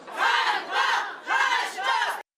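A crowd of several hundred protesters in a market square shouts in loud surging waves, roughly four swells of massed voices that cut off abruptly at the end.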